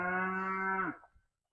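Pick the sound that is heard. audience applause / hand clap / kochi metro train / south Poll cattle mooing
south Poll cattle mooing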